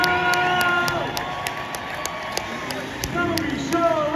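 An indoor arena crowd cheers, whistles and claps loudly at a Super Enduro motorcycle race in Newcastle, a dense, sustained roar with high whistles and an announcer's voice over it.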